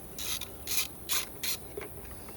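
Socket wrench ratcheting on bolts of a 2024 Harley Road Glide Extreme wedge air cleaner, four or five short, close raspy clicking bursts in a steady rhythm.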